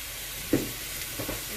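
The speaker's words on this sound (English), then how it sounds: "See that sizzle? It's sizzling." Pork frying in a pan with olive oil gives a steady, close sizzling hiss, with a brief sharper crackle partway through.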